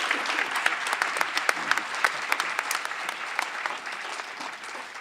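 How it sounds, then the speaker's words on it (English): A hall audience at a Martin Luther King Jr. celebration applauds steadily, dense clapping sustained for several seconds at a fairly even level, slightly fading toward the end. "if you would join me in congratulating her by an applause"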